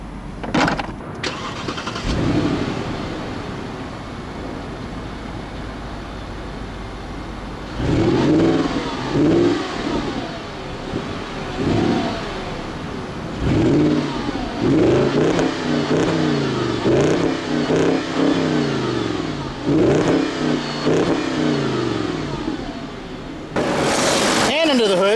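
A 2007 Audi Q7's 4.2-litre V8 turns over and fires, then revs repeatedly in rising and falling surges before settling, loud and close.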